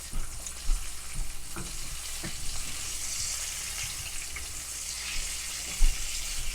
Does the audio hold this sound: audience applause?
no